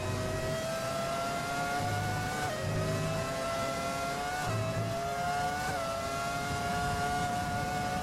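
Classic Formula 1 cars race in the desert, including a McLaren, their engines screaming continuously with shifting pitch and repeated gear-change drops, loud and close.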